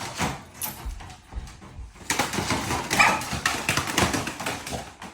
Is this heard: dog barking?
yes